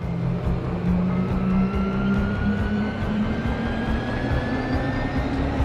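The harvester spaceship in Genesis Alpha One lifts off with a steady roaring engine drone and a slowly rising whine, loud and sustained throughout without any talking.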